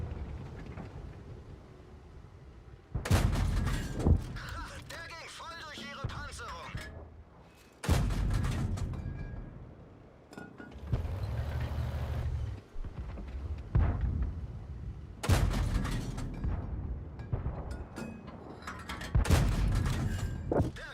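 A World of Tanks tank gun fires several heavy booming shots at irregular intervals, each with a rumbling tail, mixed with engine and battle noise.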